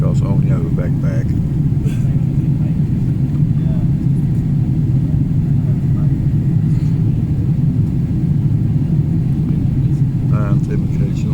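Steady, loud low engine rumble inside an airplane cabin fills the whole stretch without pause, with faint voices murmuring now and then beneath it.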